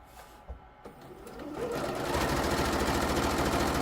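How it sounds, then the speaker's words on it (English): A sewing machine hems the bottom of a kilt facing, starting with a few quiet clicks and fabric handling before the motor ramps up into a loud, steady, rapid stitching whir close by. "what I'm doing here is I'm hemming the bottom of the facing."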